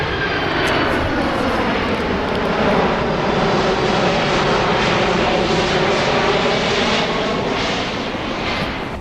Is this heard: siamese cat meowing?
no